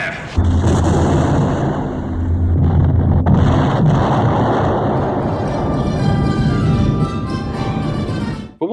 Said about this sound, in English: Galactica has several autocannons all over the hull to defend from starfighter attack